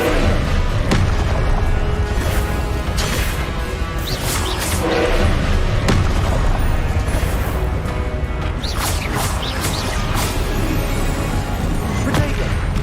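Repeated Incendio fire-spell blasts in Hogwarts Legacy combat, a continuous roar of crashing impacts and booming bursts with sharp whooshes, loud and dense throughout.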